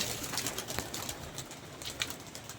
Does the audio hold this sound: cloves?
no